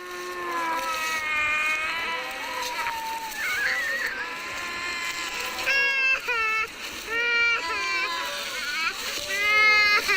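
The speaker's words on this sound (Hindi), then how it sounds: "मोबाइल चालू रह गया इसलिए जो आपको बच्चों के रोने की आवाज़ सुनाई दे रही है" Children cry on a phone left recording during a ropeway accident. High, wavering wails rise and fall in overlapping bursts, growing louder toward the end over a rough background rush.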